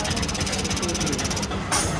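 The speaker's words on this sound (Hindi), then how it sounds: "ये इसके ना यहाँ से कोई आवाज़ आ रही है मोटर की" A Kawasaki Ninja 300 motorcycle engine runs with an abnormal motor noise, a steady loud drone with a rapid rhythmic ticking pattern and a brief dip near the end, close to the microphone.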